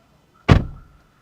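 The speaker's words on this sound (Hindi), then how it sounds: "जब भी इसका दरवाज़ा बंद करो ना तो एक ये मधुर आवाज़ निकल कर आती है" A heavy door on a 2024 Volkswagen Taigun GT Plus Sport swings shut in a single solid, deep thump, close and loud, with a short decaying tail, then quiet.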